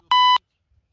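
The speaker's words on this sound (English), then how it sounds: "There's the timer." A single loud electronic beep from a workout interval timer during a core exercise class, lasting about a quarter second, then silence.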